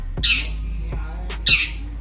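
A hanging long-tailed shrike (cendet) gives two sharp, harsh squawking calls about a second apart, close and loud over a low steady hum.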